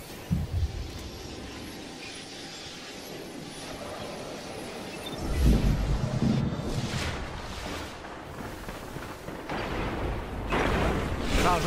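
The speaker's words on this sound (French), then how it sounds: "Faille de l'ennemi déclenchée." An enemy rift detonates during a PvP match in the video game Destiny, landing as a sudden deep boom midway through, amid ongoing game noise and distant gunfire, with a voice speaking faintly.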